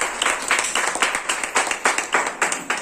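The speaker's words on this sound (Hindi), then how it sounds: "हम एक बार थोड़ी सी जोरदार ताली बजाएंगे" An audience at a parents' session in a school claps loudly in unison, about a dozen sharp, evenly spaced rhythmic bursts, close and crisp with no talk.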